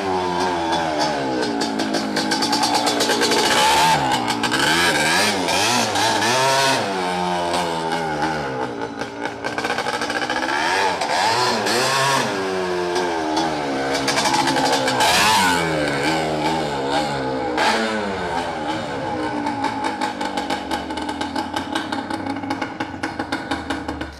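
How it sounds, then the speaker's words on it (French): A quad bike engine runs and revs steadily, its loud buzzing drone rising and falling through repeated throttle blips for the whole stretch, close by with no speech. "il fonctionne ton quad"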